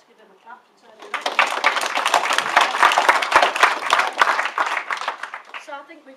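Audience at a Calderdale Save Our Services founding meeting clapping for the Students' Union president, a dense, steady round of applause swelling up after a brief pause and carrying on loudly to the end.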